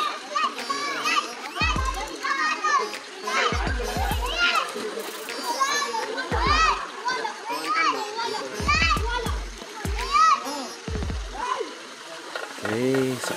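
Children shout, laugh and chatter excitedly around a pool slide at a cold spring-fed resort in Balingasag, a lively crowd of young voices close by, with an adult speaking at times.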